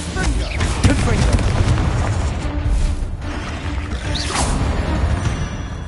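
A Confringo fire spell blasts in the Hogwarts Legacy video game, a loud, sustained roaring burst with whooshing sweeps layered over dense combat noise and battle music throughout.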